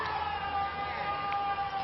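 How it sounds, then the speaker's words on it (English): Steady high-pitched whine of a construction drill running in the background outdoors in Lhasa, continuous and moderately distant with no break. "the drill from the construction"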